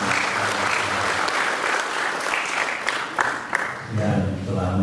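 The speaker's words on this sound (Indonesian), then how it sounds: "Sekali lagi kita beri aplaus" Applause from the audience at a closing ceremony for civil servant candidate basic training in Teluk Wondama, sustained clapping close by throughout, with voices mixing in toward the end.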